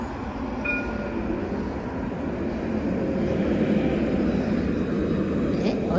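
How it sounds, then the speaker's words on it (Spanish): A tram rumbles past nearby with a steady low mechanical roar that swells slightly, set against street ambience. "Mira el tranvía."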